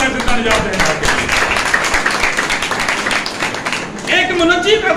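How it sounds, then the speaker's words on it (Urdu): Congregation at a Sunday church service applauding loudly, a dense continuous wash of clapping lasting several seconds with a voice speaking over it. "زوردار تالیاں لگائیں زندہ نجات دہندہ کے لیے۔"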